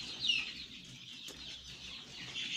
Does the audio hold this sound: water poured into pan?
no